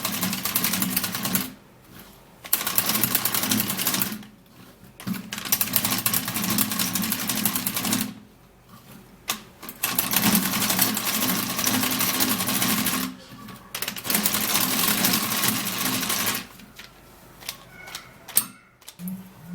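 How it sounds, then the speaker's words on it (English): A manual mixer churns aloe vera gel in a long series of loud, steady mechanical whirring runs, each lasting a few seconds and broken by short quiet pauses, with no one speaking. "I'm going to be using my manual mixer. Okay, this would help to cut the sliminess of the aloe vera."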